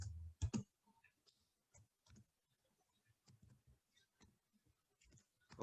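Sparse clicks of computer keyboard keys as Python code is typed, a few quick taps at the start and then scattered single keystrokes, close and quiet in an otherwise silent room.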